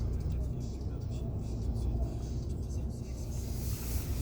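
A garbage truck moving along a Paris street in the 13th arrondissement, heard as a steady low engine rumble with broadband traffic noise throughout, fairly close and continuous.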